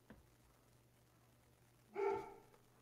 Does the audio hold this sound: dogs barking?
yes